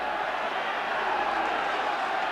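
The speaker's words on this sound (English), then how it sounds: "Australia really getting some stick from this St Helens crowd at the moment" A St Helens rugby league crowd roars steadily against Australia, a dense continuous wall of jeering voices at a tour match, loud and unbroken throughout.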